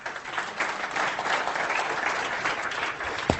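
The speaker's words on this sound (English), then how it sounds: "Give him a nice round of applause." Audience applause fills a room at a hypnosis demonstration, a steady, even clatter of many hands clapping at moderate volume, ending with a sharp thump.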